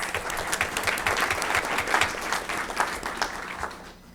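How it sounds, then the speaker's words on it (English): Applause from the audience at a school board meeting, moderately distant clapping with distinct individual claps that sustains for about four seconds and then fades out. "we'll give him a round of applause."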